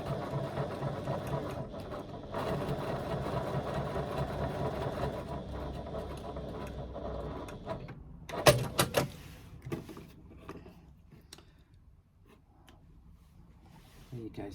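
A sewing machine backstitching fabric runs steadily for about eight seconds, a busy mechanical whir close to the microphone, then gives way to a few clicks and handling knocks before quieting.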